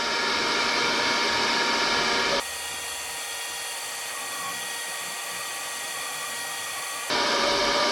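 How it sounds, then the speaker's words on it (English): A hair dryer blows loudly and continuously, heating a Can-Am Ryker hood emblem to soften its glue, drops to a lower speed setting for several seconds, then jumps back to its louder roar. "So I'm just going to use a hair dryer"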